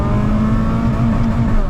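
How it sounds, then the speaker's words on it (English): A Honda Civic FD2 Type S with a 2000cc K20 K-series engine holds a steady, loud, close rev with a strong droning tone and no voices over it. "This is the K20 engine from Honda, which is the K series 2000cc."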